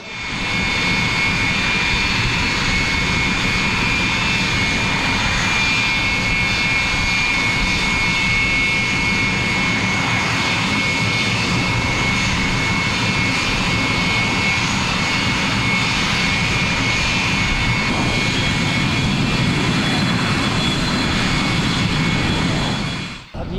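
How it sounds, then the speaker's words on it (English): Aermacchi MB339, an Italian-built jet trainer, roars steadily overhead at the Royal International Air Tattoo air show at RAF Fairford, a loud continuous jet whine and rumble that holds for the whole stretch without a break. "The aircraft is called Aermacchi MB339."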